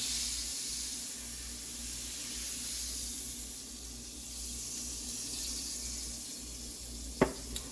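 Egg cooking in olive oil butter in a pan, a steady soft sizzle and hiss that holds evenly throughout, faint and continuous, with a single sharp utensil tap near the end.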